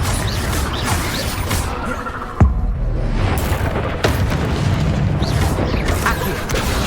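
A Confringo fire spell explodes in the video game Hogwarts Legacy: a sharp blast lands around the middle, then a smaller burst follows, both over a dense, continuous bed of game noise.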